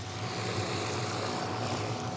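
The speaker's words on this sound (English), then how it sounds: "After some waiting, the helicopter returned" A helicopter returns to an aerial power line job site, its rotor and engine making a steady, broadband whir that stays fairly distant and unchanging throughout.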